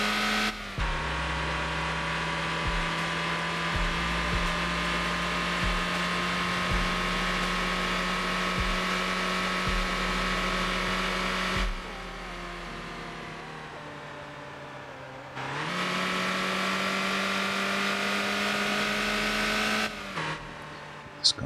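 A car in the driving game Motor Town cruises at about 130 km/h, its steady engine drone loud and continuous. The drone dips in pitch and level partway through, then rises and carries on to the end.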